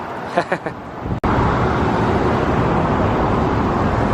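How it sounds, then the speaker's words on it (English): Cars roll along Burnside street in Portland, a continuous wash of traffic noise close by, following a few seconds of someone talking at the start. "As you can see, still today, a lot of cars up and down Burnside"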